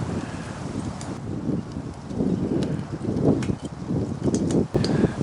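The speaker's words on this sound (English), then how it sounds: "this wind is blowing so dang hard" Strong wind gusts roar steadily through a wilderness camp, a heavy low rumble buffeting the microphone with faint rustling over about five seconds.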